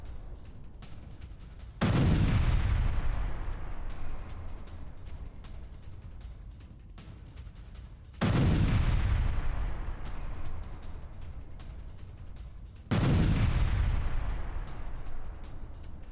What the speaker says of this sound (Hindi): साउथ लेबनान में आईडीएफ की भीषण बमबारी